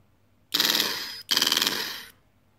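Two rapid, buzzing bursts of electronic gunfire from the small speaker of a 3D printed M41A Pulse Rifle prop, each about a second long, separated by a brief gap.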